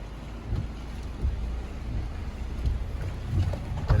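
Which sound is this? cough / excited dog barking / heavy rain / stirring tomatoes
heavy rain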